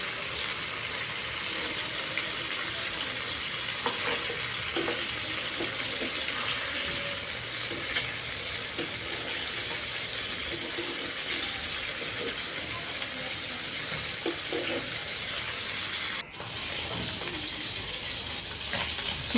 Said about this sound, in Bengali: মাছটাও ভাজা বসিয়ে দিলাম।